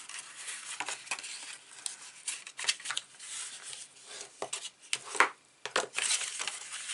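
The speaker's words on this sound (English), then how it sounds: "I'm going to just fold those and burnish those score lines" Paper being folded and burnished along score lines for a hard-covered notebook craft project: close, irregular crinkles, scrapes and rubbing sweeps, with sharp crisp accents scattered throughout and no talking.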